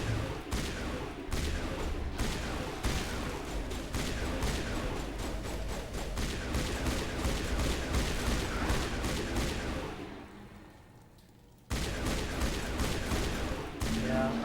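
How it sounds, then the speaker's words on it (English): Rapid repeated shots from a single-shot assault rifle in Mass Effect, cracking in steady succession over busy combat noise, with a brief lull before the firing resumes. "It's a single shot assault rifle."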